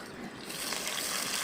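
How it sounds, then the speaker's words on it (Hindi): Water poured into a cooking pot of aloo pulao, rice with potatoes and whole spices like cumin, black pepper, cloves, cardamom, cinnamon and bay leaf, making a steady close rush of liquid that swells after a quieter start. "अब थोड़ा सा पानी डाल के भूनेंगे।"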